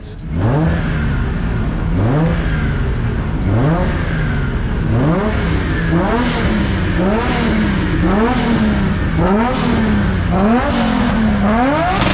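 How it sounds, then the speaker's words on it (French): A drift car's engine revs hard over and over on a gearbox test at a French drift event in Vesoul, loud, close rising sweeps with shifts repeating every second or so, a continuous roar throughout. "c'est parti pour voir si cette boîte de vitesse fonctionne bien, si la purge était bien faite"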